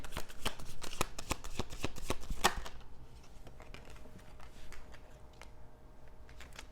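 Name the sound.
tarot cards being shuffled and laid out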